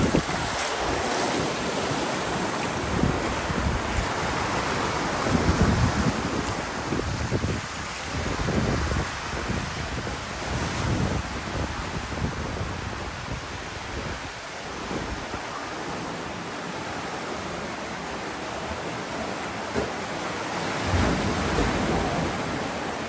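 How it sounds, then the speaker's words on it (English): Ocean waves break near cliffs and caves at Lookout Cay, Lighthouse Point. The surf surges and crashes continuously, loud and close, and heavy wind buffets the microphone throughout. "This is actual ocean, so you're going to get those bigger waves."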